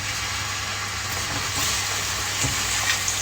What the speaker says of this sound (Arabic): هنديلهم تشويحه مع الثوم